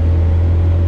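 A 1972 Valiant Super-Bee held in second gear at around 100 km/h on an uphill stretch, giving a loud, steady low engine drone with no break.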